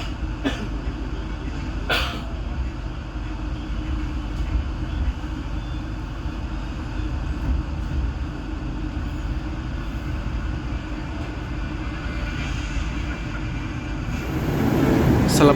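Majapahit economy-class passenger train pulling out of Bekasi station at night, a low steady rumble of wheels and carriage with a few sharp clanks, swelling louder near the end.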